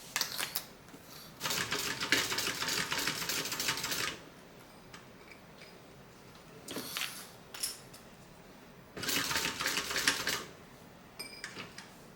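A sewing machine top-stitches along a bag's zipper edge in three bursts of fast, steady needle rattling, each lasting a couple of seconds, separated by quieter pauses with faint handling clicks.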